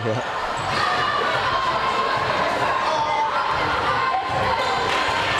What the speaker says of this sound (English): Got a nice crowd out here on this Friday night.